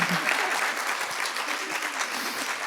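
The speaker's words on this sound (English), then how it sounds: "Let's give them a round of applause." An audience at a women's giving circle panel event applauds the panelists, a steady wash of many hands clapping at moderate volume for a few seconds with no speech over it.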